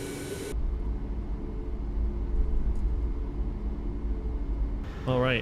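A Boeing 737 Max taxiing in Microsoft Flight Simulator gives a steady low engine rumble with a broad hiss, holding evenly throughout, with short tonal electronic chimes or beeps at the start and end.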